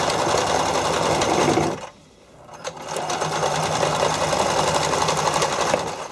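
A sewing machine zigzag-stitches stretched elastic onto figure skating soakers, running loud and close with a rapid mechanical chatter. It stops briefly partway through, then picks up again at the same steady pace.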